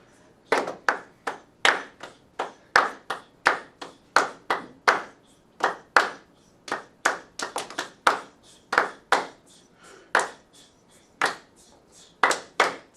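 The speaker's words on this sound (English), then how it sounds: "let's have half of the room sizzle and half of the room clap" A music classroom reads a rhythm line in eighth notes, half the group clapping and half making hissed sizzle sounds, producing sharp, closely spaced bursts in an uneven pattern against a quiet room.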